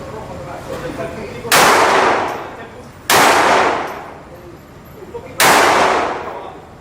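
A Glock Gen 4 pistol fitted with a Derya DY9 upper fires three loud separate shots at an outdoor range, each a sharp crack with a long fading echo, evenly spaced about two seconds apart.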